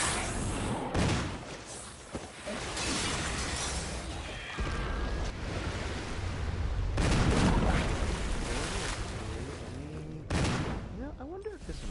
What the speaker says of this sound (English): can you hear like the gunshots and the zombie and the footsteps and everything?